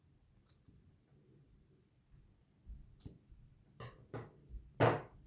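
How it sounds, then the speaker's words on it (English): Scissors cut through macramé yarn on a plant hanger: a few short, crisp snips close by, spaced apart in a quiet room. "And now you can cut the yarn"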